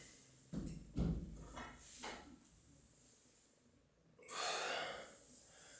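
Heavy, forceful breaths and exhales from a lifter doing barbell rows, a few strong puffs early on followed by a long, loud exhale, with faint clanks in a quiet room.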